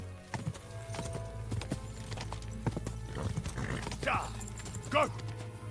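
Hooves clop rhythmically as a horse gallops in the video game Kingdom Come: Deliverance 2, with a whinny near the end and a player speaking over the in-game sound.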